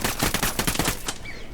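Rapid automatic machine gun fire in a shooter video game, a loud close burst of about ten quick shots in steady rhythm that cuts off abruptly.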